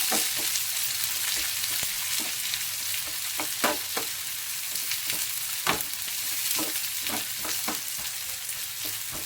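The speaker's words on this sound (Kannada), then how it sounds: "ಹಾಗೆ ಹೆಚ್ಚಿಟ್ಕೊಂಡಿರೋ ಈರುಳ್ಳಿನ ಸೇರಿಸ್ಕೊಳ್ಳೋಣ ಸ್ವಲ್ಪ ಫ್ರೈ ಮಾಡ್ಕೊಳ್ಳೋಣ" Chopped onions sizzle steadily in a small pan for radish bajji, a continuous frying hiss broken by sharp crackles and spatters, with no talking.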